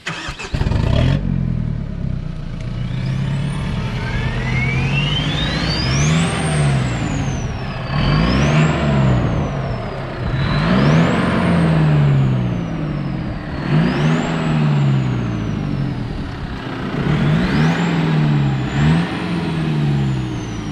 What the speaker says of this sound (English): what I've done to the exhaust, it's extremely loud